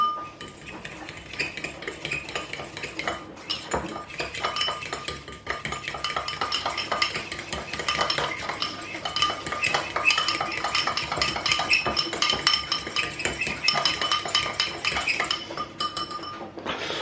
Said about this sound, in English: Give that a quick whisk through